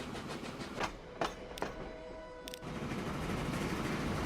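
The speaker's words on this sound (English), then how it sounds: "Where is it? Where's that new train?" Train moving through a cargo-network video game: a low rolling rumble with a few sharp clacks spaced apart, then a steadier, slightly louder hum of the running train.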